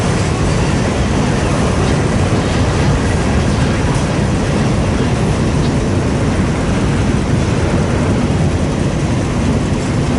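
A freight train rolls past on the Fort Wayne Line, a dense continuous roar of wheels and cars, loud and close, holding steady throughout with no break.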